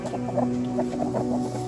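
A chicken clucks in short, repeated bursts over a steady low hum, close and fairly loud, with no talk.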